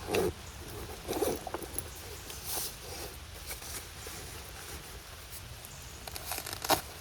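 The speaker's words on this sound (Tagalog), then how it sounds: "Biglang lumakas yung ulan." Dense pattering of heavy rain, a continuous rushing hiss broken by scattered louder taps and rustles nearby.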